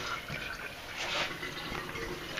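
Water pours into a container, a steady soft splashing trickle heard close but fairly faint, with no talk over it.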